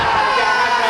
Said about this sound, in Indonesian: Tepuk tangannya bikin saya tegang.